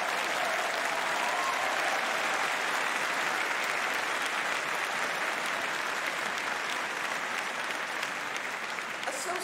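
Sustained audience applause for mechanical engineering graduates at a university commemoration day ceremony, a dense, even roar of many hands clapping that holds steady and loud from start to finish.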